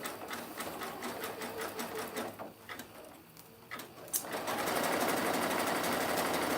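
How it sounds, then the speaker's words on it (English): A sewing machine stitches a picnic basket in short runs and pauses, then settles into steady continuous stitching that grows louder toward the end. "sewing all in the same spot"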